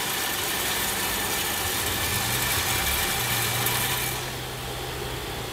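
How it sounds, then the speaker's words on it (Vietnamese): Electric motor of a combined soybean grinding and pressing machine running steadily, a continuous close hum with a faint mechanical whine that drops slightly in level near the end, no talking. "Nghe tiếng của động cơ."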